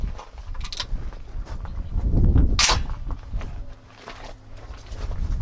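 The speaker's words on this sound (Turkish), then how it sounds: "Seramik slakla atış var." A shotgun fires a BNB ceramic slug in one loud, sharp outdoor blast that decays quickly, surrounded by scattered shuffling and handling noises.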